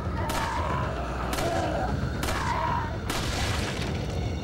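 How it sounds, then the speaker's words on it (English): Enemy gunfire in Resident Evil 4: four loud, sharp shots spaced unevenly over a few seconds, each trailing into a brief echo, over a low, steady background. "these guys are taking a lot of shots"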